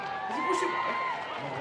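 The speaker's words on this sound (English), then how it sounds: "Listen to the cheer as he pushes it wide." Crowd at an amateur rugby match in Ulverston cheers as a kick is pushed wide, a short burst of mixed shouts and whoops rising and fading over about a second and a half, with a commentator's voice running underneath.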